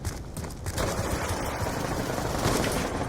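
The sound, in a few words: gunfire in the video game Black Ops 2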